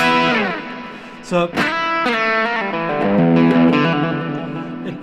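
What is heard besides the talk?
electric guitar with drive and reverb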